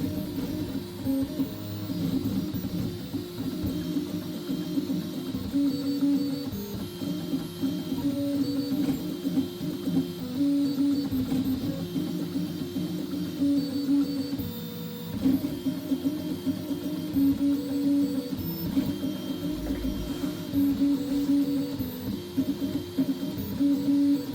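3D printer with a Goliath hot end running at high acceleration, giving continuous whirring and buzzing stepper-motor tones with rapid rhythmic fluctuations throughout, close and steady with no talking.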